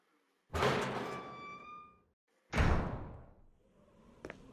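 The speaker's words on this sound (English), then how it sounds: "Go through this door." Two heavy thunks of a door in Resident Evil remake: one with a ringing metallic tail, then a second dull thud followed by a faint clink.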